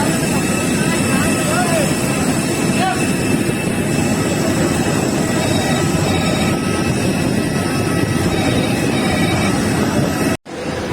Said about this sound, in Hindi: ये थी अपनी फ्लाइट।